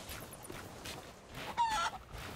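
Chickens clucking in the pirate video game Sea of Thieves, a faint cluster of short clucks with a brief, higher, louder squawk near the end, over soft game ambience.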